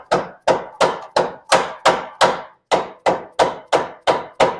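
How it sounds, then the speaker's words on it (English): A hammer drives a bolt through a plate on a Polaris RZR Turbo S in a garage, about a dozen sharp metallic blows struck at a steady, even rhythm, loud and close, with no talk. "Best way to protect the threads is to hammer it through."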